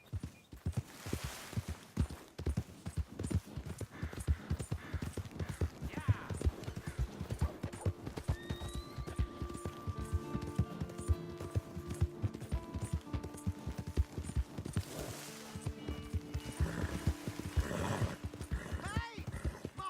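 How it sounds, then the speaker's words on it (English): Horse hooves clip-clopping in a rapid, close rhythm in the video game Red Dead Redemption II, with a whinny rising over them and voices talking alongside. "Hey! My horse!"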